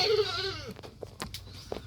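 Goats bleating in a breeding pen, one long wavering bleat up close at the start, followed by a few shorter, fainter calls from other animals.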